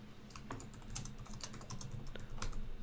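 Computer keyboard keys clatter in quick irregular bursts of clicks, close and clear, as a short confirmation is typed in with no talking.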